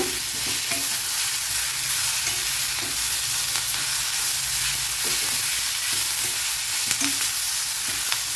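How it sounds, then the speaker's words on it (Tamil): Capsicum deep frying in a pan gives a loud, steady hiss of bubbling oil that stays constant throughout, with faint occasional stirring. "நல்லா டீப்பாக ஃப்ரை பண்ணிக்கோங்க"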